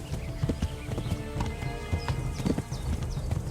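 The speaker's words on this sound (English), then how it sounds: "There are numerous horses with varied stats in the game." Horse hooves clip-clop in the medieval open-world game Kingdom Come: Deliverance 2. The hoofbeats fall in a steady, close walking rhythm over a busy ambient backdrop, and there is no speech.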